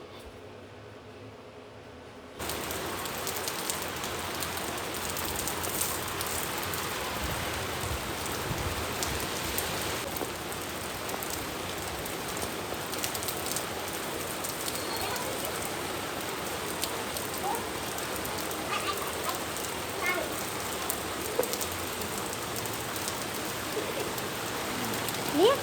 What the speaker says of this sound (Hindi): अभी तो बारिश आ रही है देखो।